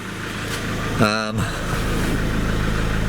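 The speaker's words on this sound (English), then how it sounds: "It's a diesel, turbo diesel. Like all diesels, when they're idling, they're rattly." A Mahindra Pik Up turbo diesel idles with a steady, rattly low-pitched clatter, close and fairly loud, broken by a brief harmonic sweep from a passing sound before the idle continues evenly.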